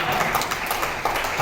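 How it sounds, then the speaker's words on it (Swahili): A church congregation at T.A.G. Mavuno church in Mbeya claps in a dense, continuous wash of applause that is close and fairly loud. "Makofi mengi kwa Yesu."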